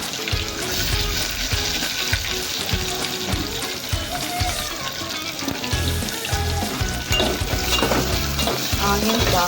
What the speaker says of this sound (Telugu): ఆనియన్స్ బాగా ఫ్రై అయ్యేవాళ్ళు ఫ్రెండ్స్